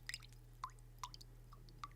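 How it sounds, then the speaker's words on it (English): Soft wet squelches and drips, a few separate squishy pulses of water from a sponge, close and quiet over a low steady hum. "here I got a sponge in some water, making some sound effects"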